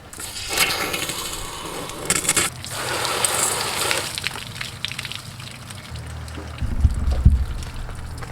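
Water pours and trickles out of a camper's drain hose during winterizing, splashing unevenly, with a low rumbling gurgle toward the end.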